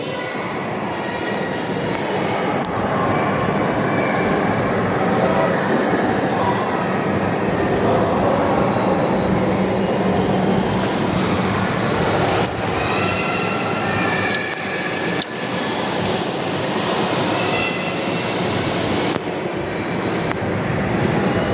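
Metro train rolling across a rail bridge near Science City, a steady loud broadband roar with rumble that holds for the whole stretch, without any voices.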